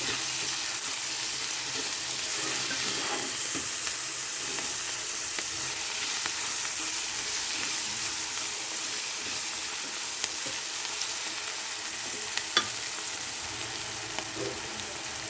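Cluster beans sizzle steadily in a pan for a long stretch while they cook down, with occasional faint stirring clicks and no talking.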